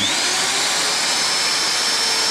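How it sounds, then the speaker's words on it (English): A power drill whines steadily at close range, a continuous high-pitched grinding as it bores through rivet heads during a Scania 143 restoration, with no pauses. "You got to drill the head of the rivet right through."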